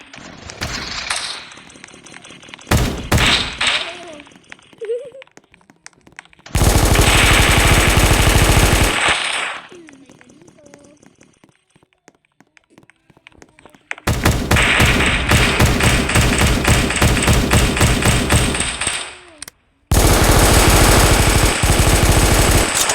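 Rapid bursts of video game gunfire erupt in long loud sustained volleys, separated by quieter stretches of taps and thuds.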